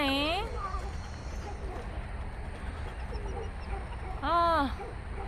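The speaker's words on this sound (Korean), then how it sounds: "닭장 속에 니네는 닭이니?" Chickens and other fowl in a crowded coop at an animal farm, with faint clucks and coos under steady outdoor background noise, bracketed by bursts of a child's or adult's high-pitched voice at the start and near the end.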